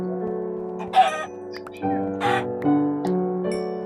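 Chicken calls from Minecraft, harsh clucking bursts over a steady droning music bed, three or four loud squawks spaced across the clip.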